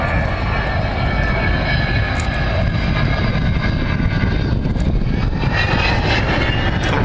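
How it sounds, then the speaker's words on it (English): An Avro Vulcan B2 jet bomber makes its final fly-past at the Farnborough air show, a loud continuous roar of jet engines rushing by, filling the whole stretch with broad rumbling noise. "Final fly past coming in from the right, speeding up to 300 knots,"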